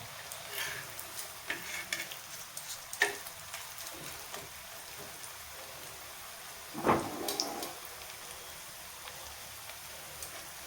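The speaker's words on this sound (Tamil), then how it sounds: "பாருங்க எண்ணெய் கம்மியாக இருக்குது கொஞ்சோண்டு எண்ணெய் ஊற்றிக்கோ" Parotta frying in a small amount of oil on a pan gives a faint, steady sizzle with a few soft stirring or handling knocks, one louder scrape near the end, and no talk.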